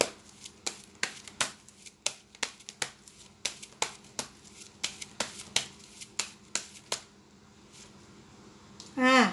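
Tarot cards being laid out one by one make a rhythmic series of sharp, crisp slaps on a surface, about fifteen in quick succession, followed by a short louder rustle at the end.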